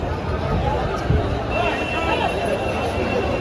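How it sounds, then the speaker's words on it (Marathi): A bustling crowd at a busy bull market in Dhule: steady, dense hubbub of many voices and movement, with nearby talking layered over the broad background noise. "फुल गर्दी बाजारामध्ये आजच्या बाजारामध्ये"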